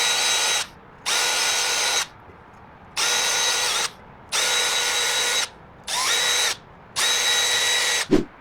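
A drill spins a nylon brush inside the valve guides of a Pentastar 3.6 cylinder head, producing six loud, close whirring bursts of about a second each, separated by short silent pauses.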